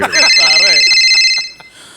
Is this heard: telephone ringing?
yes